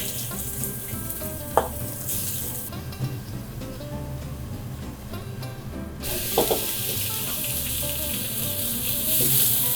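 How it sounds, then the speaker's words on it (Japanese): Garlic-coated shrimp fry in a hot pan with a bright, continuous sizzle, broken by a few sharper crackles and spits as the pieces are turned, close and fairly loud. "まずエビを、炒めていきたいと思います。"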